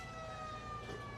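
A siren sounds at half-time of a country Australian football match between Burracoppin and Narembeen, a steady sustained tone heard faintly from a distance under crowd ambience.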